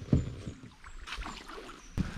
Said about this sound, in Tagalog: Tumataas yung bangka.